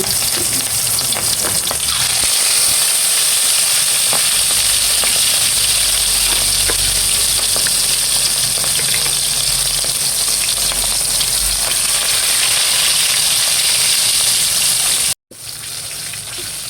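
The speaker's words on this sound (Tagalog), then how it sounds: "Akin na pong bibilingin yung pong piniprito kong bangus." Milkfish (bangus) frying in a pan: a loud, steady oil sizzle with crackling spatters runs close and continuous, broken by a brief dropout near the end, with no voices.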